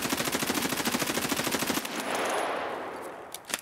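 Automatic gunfire in Escape from Tarkov, shot while aiming down sights: a rapid, loud burst of evenly spaced shots for about two seconds, then a fading echoing tail and a few faint clicks.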